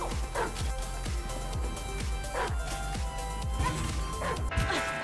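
Fafnir's second ability in the SMITE video game hits a dog-skinned target, producing a rapid run of heavy, punchy whacks and crunches. The impacts repeat at a regular beat and are layered with game effects.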